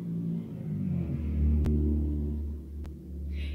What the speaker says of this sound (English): necessary to make your engine that loud?